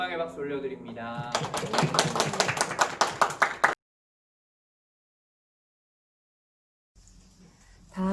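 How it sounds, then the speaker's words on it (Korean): Congregation applauding in a church youth service, a few seconds of dense rhythmic clapping after a brief voice, then sudden silence before faint room noise returns. "우리 하나님께 영광의 박수 올려드립니다"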